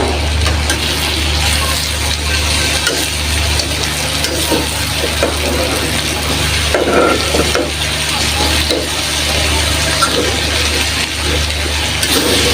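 Vegetable bhaji frying in a pan with green chilli and onion, a steady loud sizzle throughout, with occasional stirring scrapes and a low background hum.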